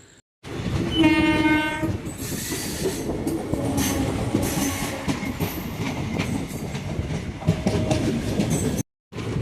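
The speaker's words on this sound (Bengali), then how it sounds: "রাত্রি 10:21 আর আমাদের ট্রেন কিন্তু আজিমগঞ্জ জংশনে এসে ঢুকছে।" The Teesta Torsha Express rolls into Azimganj Junction at night with a long horn blast at the start, followed by steady rumbling, wheel clatter and squealing brakes as it slows.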